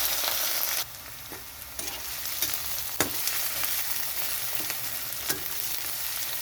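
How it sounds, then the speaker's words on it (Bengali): Chopped onion with ginger and bay leaf fries in mutton fat, giving a continuous, close sizzle punctuated by several sharp scrapes and knocks of a spatula in the pan. "পেঁয়াজটা হালকা ভাজা হয়ে গেছে।"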